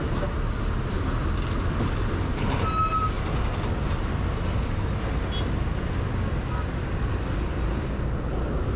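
Congested road traffic near Panvel, with dumper trucks and tankers queued during a rainy motorbike ride, makes a steady, loud, dense rumble that stays unbroken for the whole stretch.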